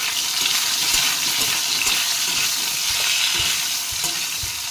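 Greens and eggplant frying in oil while being stirred, a steady loud sizzle with soft scraping stir strokes recurring throughout.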